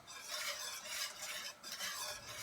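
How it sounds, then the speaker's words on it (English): A roux white sauce for pepper jack mac and cheese is stirred in a pot, giving a steady scraping, swishing sound with a faint sizzle, close and continuous with no talking. "I do want to stir it frequently"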